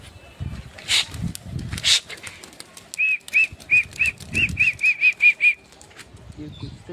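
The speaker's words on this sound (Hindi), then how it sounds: "यहाँ पे आ चुके हैं अपने सारे कबूतर" Pigeons take off with a burst of flapping wings, followed by a quick run of about ten sharp, evenly spaced chirping calls, close and loud, with a few brief voices around them.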